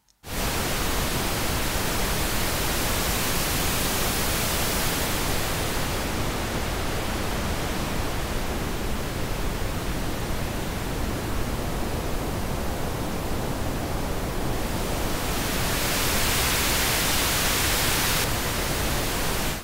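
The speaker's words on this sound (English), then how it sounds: "Here is how a high shelving filter sounds." Steady pink noise passed through a high-shelving EQ filter, a continuous loud hiss whose upper range is cut back for a stretch in the middle and then brought back up.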